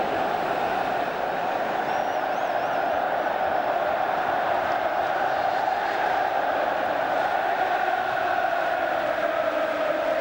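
A large football crowd at Wembley roars continuously through an England versus Denmark match, a dense sustained swell of cheering and chanting with no break.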